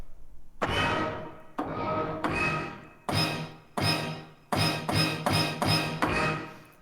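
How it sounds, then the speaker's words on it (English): Classic orchestra-hit synthesizer sound: about ten bright, full-band stabs. The first few ring out and decay, then quicker hits follow in a tight rhythmic burst, loud and alone. "So that is the classic orchestra hit sound."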